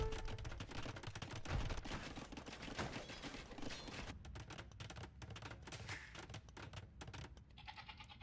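Cannons firing in a medieval real-time strategy game match, dense overlapping booms and crackling impacts filling the whole stretch over a constant battle din, loud and busy without any talk.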